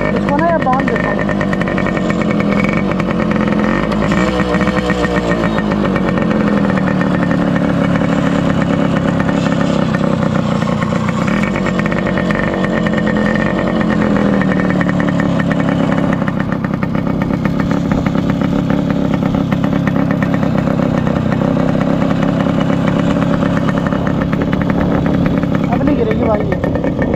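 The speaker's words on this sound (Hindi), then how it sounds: "ओ भाई वन किक स्टार्ट हो गई, चलो बढ़िया है।" A Yamaha RX100 two-stroke motorcycle engine running after a kick start, a steady rattling idle with occasional revs, close and continuous throughout.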